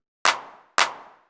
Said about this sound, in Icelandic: Og öllu housebeat er nú yfirleitt með klappi